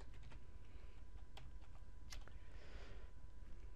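Keys tapped on a computer keyboard while code is written in the Eclipse editor, a quiet, uneven run of close clicks with brief pauses and a low steady background hum.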